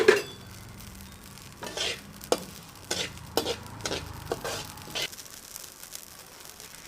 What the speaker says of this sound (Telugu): ఆవాలు కూడా వేయించుకుంటున్నాము